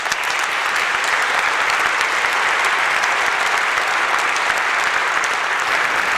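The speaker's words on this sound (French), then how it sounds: "vous pouvez également applaudir" An audience applauds steadily at a ceremony for the bicentenary of the Société de Géographie, a loud, sustained wash of clapping from many people with no break.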